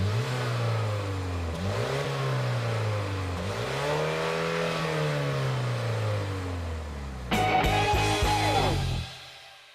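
The 2025 Mini JCW's engine, heard through its single centrally mounted exhaust, revs up in rising sweeps with gear-change dips, then a sharp louder burst before cutting off.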